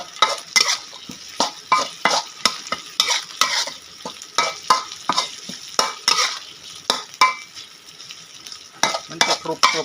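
Field frog stir-fried with black pepper in a pan, a fast, rhythmic run of spatula scrapes and clanks against the metal over a constant sizzle, loud and close with no speech.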